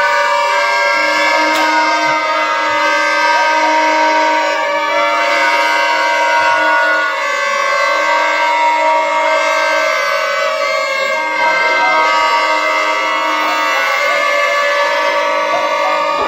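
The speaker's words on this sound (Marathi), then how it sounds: "भोंग्याचा उपयोग चालू झाला आता." Horns blown by fairgoers at a village fair (jatra) in Konkan, giving loud, steady, droning tones that overlap and hold continuously throughout with only slight shifts.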